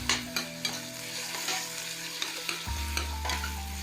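Onions frying in a pan for a meat sauce, a steady close sizzle broken by repeated sharp stirring scrapes and clinks, with a low hum underneath that shifts partway through.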